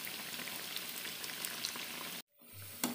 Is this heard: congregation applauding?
no